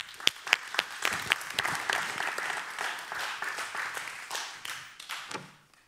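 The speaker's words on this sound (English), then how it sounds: "Let's give him a round of applause." An audience at a conference breakout session claps steadily for several seconds, a dense wash of applause that swells and then fades out.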